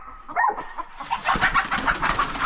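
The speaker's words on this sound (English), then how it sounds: "look at that old wild bird there" An old wild bird calls outdoors on a homestead with short, clucking, chicken-like notes repeated in a quick run, moderately near against a hissy outdoor background.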